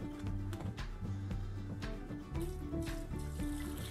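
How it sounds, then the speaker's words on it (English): Hot tap water runs and splashes over cut turkey wing pieces in a sink, a continuous nearby gurgling pour with shifting tones and no talk. "I'm going to pour some hot tap water on it, and it's really, really hot"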